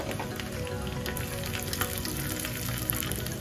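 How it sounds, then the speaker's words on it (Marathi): Crushed and chopped garlic with red chillies sizzling in hot ghee for a tadka, a dense continuous crackling fry with small pops, steady and close throughout. "यात मी आता ठेचलेला लसूण आणि थोडासा कापलेला लसूण असं टाकून घेणार आहे।"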